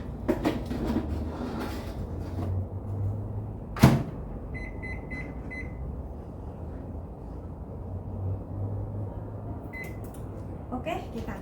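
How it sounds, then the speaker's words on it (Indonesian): Bread rolls go into a preheated oven: a single sharp clack of the oven door, then a string of faint electronic beeps over a low kitchen hum. "Kita masukkan ke dalam oven ya."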